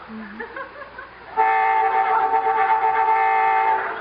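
A car horn blares in one long, loud, sustained honk that starts after a quieter moment with a faint voice and holds steadily to the end.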